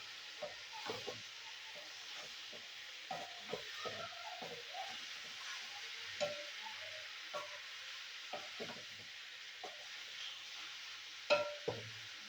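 Boiled cauliflower with softened tomato stirred in a pan, soft sizzling with intermittent scraping and clattering of the spoon, quiet and close, with no talking.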